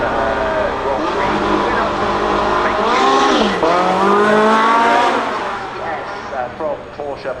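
Supercar accelerating hard up a hill, its engine note rising and climbing through the gears with a loud, harmonically rich wail that peaks and then fades as it passes, with talking over it.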